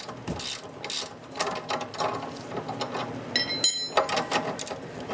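A 15 mm wrench working loose a sway bar link nut, countered with a 5 mm hex bit: close, irregular metallic clicking and ratcheting bursts with clanks, no talking.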